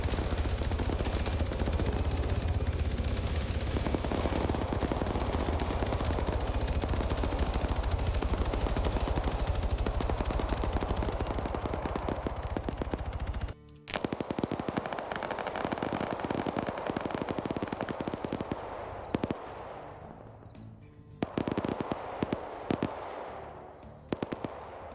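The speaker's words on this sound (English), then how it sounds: "Once again, you got machine gunners hitting, though." Sustained machine gun fire in a multiplayer combat video game, rapid bursts crackling almost continuously, with brief pauses near the end and no talk over it.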